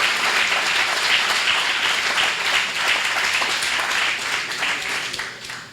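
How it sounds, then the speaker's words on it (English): Loud, close audience applause follows a powerful rendition, dense clapping that holds strong for several seconds before beginning to thin at the end. "I want to give him a round of applause"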